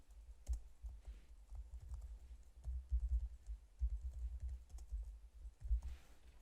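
Someone types on a computer keyboard to enter a custom list into an Excel spreadsheet, producing soft, close key clicks in uneven bursts and short runs over several seconds. The clicks are quiet and there is no speech.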